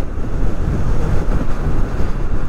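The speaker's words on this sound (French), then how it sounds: "le vent, il est archi méchant de ouf" Strong wind buffets a motorbike rider on the road, a loud, steady roar of rushing air battering the microphone from start to finish.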